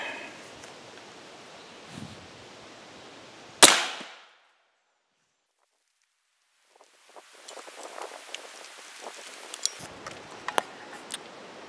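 A single sharp .357 revolver shot fired into a sealed stainless steel water bottle outdoors, one loud crack followed by a brief silence, then leafy rustling and small movement noises nearby.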